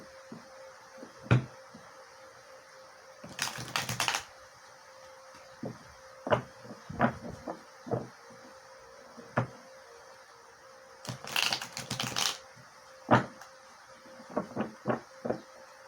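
Tarot cards being shuffled during a psychic reading, heard as scattered soft riffling bursts and light taps spread through a quiet room, with two longer flurries of card shuffling among the smaller clicks.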